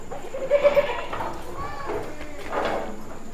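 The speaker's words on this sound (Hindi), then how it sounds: "120 किलो का बकरा है" A 120-kilogram male goat on a farm bleats in a few wavering calls at close range, with faint voices and background noise around it.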